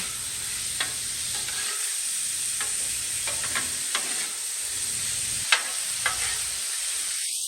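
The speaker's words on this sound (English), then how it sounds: "You just want to soften up the onions and peppers and just brown up this hamburger meat." Hamburger meat, 80-20 ground beef, browns in a pan with onions and peppers, giving a soft, steady sizzle broken by scattered scraping stirs and a few louder clacks.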